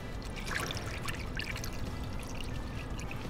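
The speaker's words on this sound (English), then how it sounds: "Now we insert a funnel, and then we're gonna start pouring in our coolant." Pre-mix DexCool coolant pours from a jug through a funnel into the filler neck of a Chevy Impala, a steady soft gurgling trickle heard up close with no talk.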